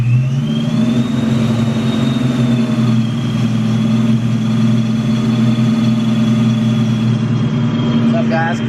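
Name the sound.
1996 Mustang Cobra Vortech engine running after clutch job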